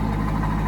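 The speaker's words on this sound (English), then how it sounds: "Sounds like it may have a little more aggressive exhaust on it. A little rumble out of that LS1." A car with an LS1 V8 and an aggressive aftermarket Corsa exhaust idles, giving a deep, steady low rumble with a slight pulsing lope, close and constant, and no one speaking.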